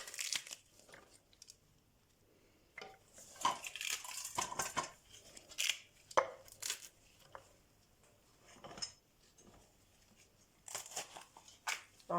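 Knife cutting through a red chili pepper on a board in a home kitchen, with a series of sharp clicks, taps and crinkly scrapes spaced irregularly, faint and close, with no talk.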